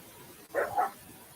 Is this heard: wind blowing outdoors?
no